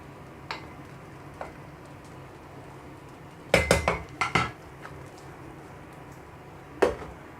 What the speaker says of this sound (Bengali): এরকমভাবে ঝাঁকিয়ে ঝাঁকিয়ে মিক্স করবেন যাতে ভাতগুলো